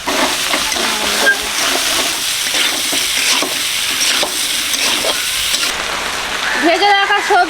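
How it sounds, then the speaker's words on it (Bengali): Boneless fried meat sizzles in a pan with turmeric, cumin and dry chili powder, cooked for a pasta dish with onion, carrot and capsicum; steady close sizzling with stirring scrapes throughout and a brief voice at the very end. "ভাজা মাংস দিয়ে দিচ্ছি সামান্য হলুদ জিরার গুঁড়ো অল্প শুকনো লঙ্কার গুঁড়ো"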